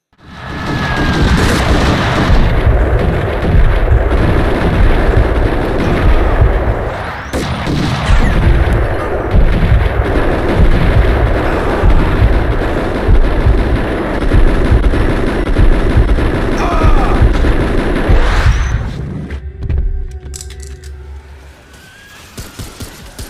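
Loud, sustained gunfire in the Max Payne video game, with dense overlapping shots and booming blasts that run almost continuously before cutting to quieter sparse shots near the end.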